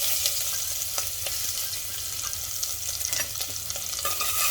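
Garlic sizzling in hot ghee with asafoetida and mustard seeds: a bright, steady crackle close by, broken by spoon scrapes and sharp little pops.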